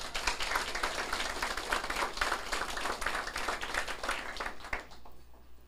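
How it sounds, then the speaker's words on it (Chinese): An audience at a closing address of a legal autonomy academy session claps in a steady, even patter that stays fairly soft and distant, then trails off near the end. "咱过来甲掌声来甲伊，鼓励甲鼓励一下"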